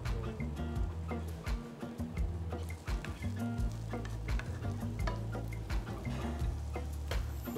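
Onion and hard cabbage stir-frying in a hot pan, a steady close sizzle with scraping stir strokes and light ticking clatter running throughout, no talk.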